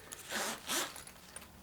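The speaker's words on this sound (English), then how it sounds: "you just undo the compression zipper on it" A compression zipper on a large fabric EDC organizer pouch is pulled open in two quick rasping strokes, close and fairly quiet, followed by faint handling rustle.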